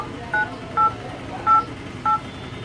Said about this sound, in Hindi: कीपैड का आवाज़ आ रहा है